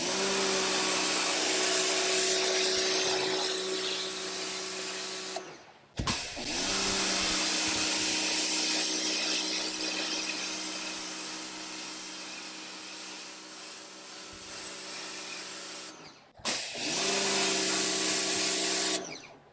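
A Suyncll electric pressure washer runs in long steady bursts while cleaning grime and mold off a deck box outdoors, its loud motor whine cutting off briefly between trigger pulls, with no talking.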